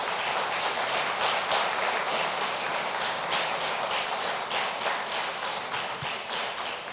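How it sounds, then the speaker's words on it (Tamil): Loud, sustained audience applause fills a hall at a Mahindra Manulife Mutual Fund event, a dense, even roar of many clapping hands that holds steady from start to finish with no talk. "ஒரு அரங்கமே அதிர்ற அளவுக்கு ஒரு பலத்த கைத்தட்டல்"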